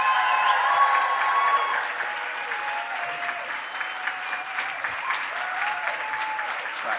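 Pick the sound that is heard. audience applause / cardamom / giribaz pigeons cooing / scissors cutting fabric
audience applause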